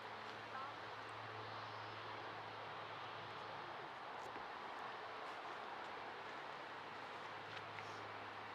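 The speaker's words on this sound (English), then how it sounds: "Looks like Ryanair are going to be the ones" A Ryanair airliner operated by Malta Air takes off from Manchester Airport, its engines giving a steady, broad jet roar that holds evenly throughout at a moderate distance.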